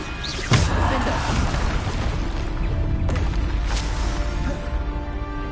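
A Bombarda spell goes off in Hogwarts Legacy with a sudden loud boom, then a second burst follows a few seconds later, both sitting over a dense, rumbling game mix.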